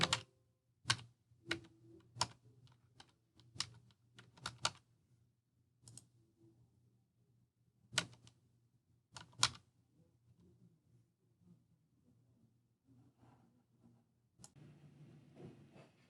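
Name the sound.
typing credit card information on a keyboard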